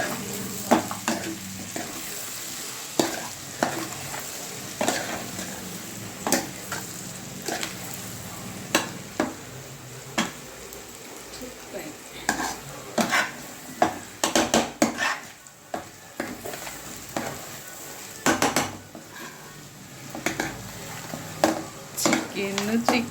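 Chicken with garam masala and a ginger, garlic, poppy seed and coconut paste being stirred and fried in a pan, a soft steady sizzle punctuated by repeated clinks and scrapes of a utensil against the metal, with occasional talk.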